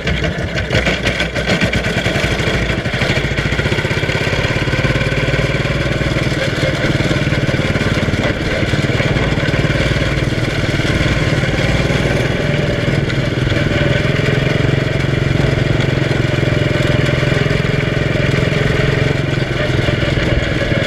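A mini Indy race car engine idles at a race event, a loud, steady, buzzing drone that holds throughout without pause.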